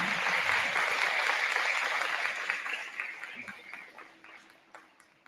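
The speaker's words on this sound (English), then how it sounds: "a big round of applause" A school induction ceremony audience applauds loudly, the clapping thinning out and fading into scattered claps by the end.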